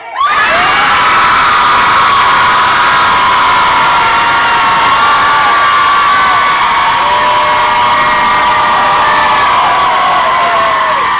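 A live masterclass audience screams loudly on cue, a dense, sustained crowd roar of shrieks and cheers that holds steady for about eleven seconds without letting up.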